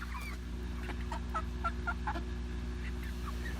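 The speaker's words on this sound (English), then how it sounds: "We got some really curious chickens here." Chickens near a coop give several short, close clucks and gobble-like calls in a quick cluster over a low, steady hum.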